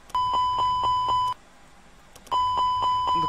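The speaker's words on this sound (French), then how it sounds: "on teste si euh, l'alarme marche bien" A fire alarm test in an Airbus A320 cockpit in the Prepar3D flight simulator sounds two bursts of rapid, evenly spaced electronic chimes, loud and clear, separated by a brief pause.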